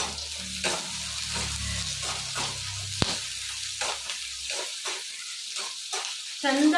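Garlic fries in oil for a greens chutney, with loud continuous sizzling and regular spoon stirring strokes, a sharp clink near the middle, and the frying noise dropping away toward the end.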